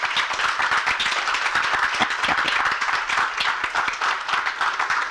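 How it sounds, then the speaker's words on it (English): An audience at the grand opening of the Cleveland Public Library Brooklyn Branch claps in dense, continuous applause. The clapping is sharp and steady, and no voices are heard. "Please give the staff a big round of applause."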